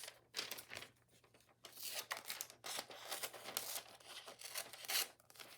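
Scissors cut through a clothing catalog page in a series of close, quiet snips with papery crinkling between them, no talk.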